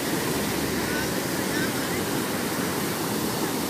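Sea waves roll continuously at a salt-producing coastline, a loud steady roar of surf with wind buffeting the microphone and no clear breaks.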